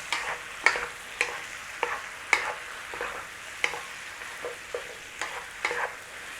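Beef and tomatoes are stir-fried in a pan, with a soft steady sizzle broken by regular scraping strokes of the spatula, about one each half second, fairly quiet.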